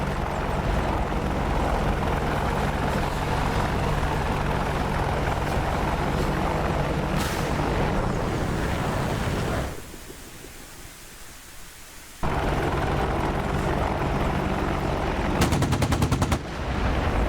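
An Apache attack helicopter attacking in the DCS combat simulator, a loud continuous rotor and engine roar with rattling cannon fire, briefly dropping away before returning with a final rapid burst.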